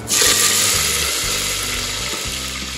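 Curry leaves and whole spices, including black cardamom, dropped into hot oil for chicken biryani: a sudden loud hiss bursts at the start, then settles into steady, close crackling sizzle throughout.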